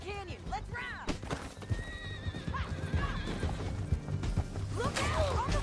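Horse neighing and clip-clopping hooves in the Red Dead Redemption 2 video game, with whinnies rising over steady hoofbeats, music and game sounds, and voices shouting in the game.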